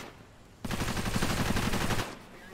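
Rapid automatic gunfire in the video game Cepheus Protocol, a loud sustained burst of fast shots lasting about a second and a half before cutting off.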